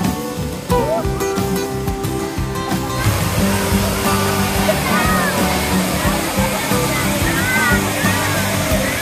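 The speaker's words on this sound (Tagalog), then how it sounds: "Waterfall." Pinsal Falls in Ilocos Sur pours in a steady, loud rushing roar of falling water, heard up close, with people's voices and splashing mixed in over the constant wash.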